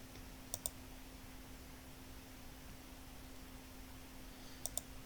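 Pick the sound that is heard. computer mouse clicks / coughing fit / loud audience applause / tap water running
computer mouse clicks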